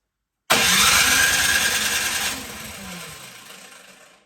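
A Craftsman snowblower engine on half choke bursts into a loud, rough start, roars steadily for about two seconds, then drops back and fades out as it dies down. No one speaks.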